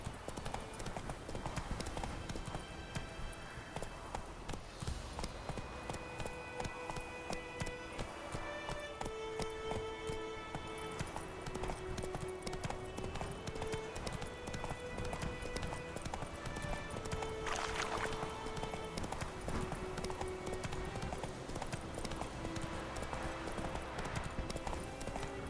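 Roach the horse galloping in The Witcher 3: Wild Hunt video game, a steady, fast clip-clop of hooves running continuously throughout, layered over background music and ambience.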